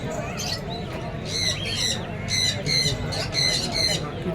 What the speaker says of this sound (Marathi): विविध पक्षी.